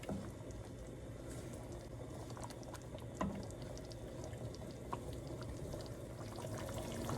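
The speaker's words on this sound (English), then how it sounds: "Once that's come up to a rolling boil" A Malay fish curry with kaffir lime leaves at a rolling boil in a pot, giving a faint, steady bubbling and simmering hiss with a few small pops, heard close and alone.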